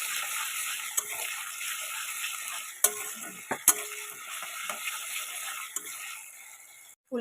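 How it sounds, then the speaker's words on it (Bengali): Ginger paste frying in oil gives a soft, steady hiss, with a few sharp clicks and scrapes of a spoon against the pan. The sound is quiet and close, then cuts off abruptly near the end. "আদার পেস্টটা ভালো করে তেলের মধ্যে একটু ভাজা ভাজা করে নেবো"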